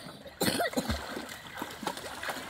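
Outdoors near flowing water, a person gives a short, close cough, followed by throaty, raspy sounds and faint splashing.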